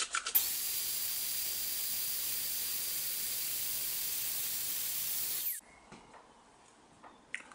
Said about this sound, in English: I'm just going to drill the holes through here now and then cut this out.